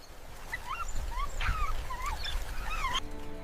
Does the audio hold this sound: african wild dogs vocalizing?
yes